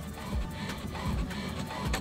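An HP Smart Tank 580 all-in-one wireless printer runs a print job, giving a steady mechanical whir with repeated sweeping carriage passes about every half second. No one speaks.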